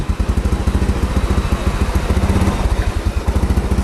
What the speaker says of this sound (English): when you start the motorcycle in neutral